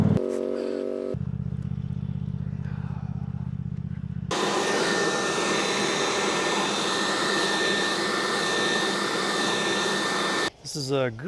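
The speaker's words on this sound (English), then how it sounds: "This is a Greenworks 40 volt leaf blower and a vacuum too." A Greenworks 40 volt cordless leaf blower runs close by with a loud, steady, rushing whoosh that holds unbroken for several seconds. Before it starts, a lower, humming sound plays, and the blower cuts off briefly near the end.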